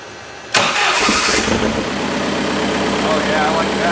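A Suzuki Samurai engine cranks and catches at once, a sharp loud burst that settles into a steady close rumbling idle which carries on to the end.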